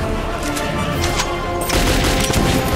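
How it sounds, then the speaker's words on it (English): Shotgun blasts in the video game Metro, loud booming shots in a dense, noisy firefight, close and repeated. "I'm liking this shotgun."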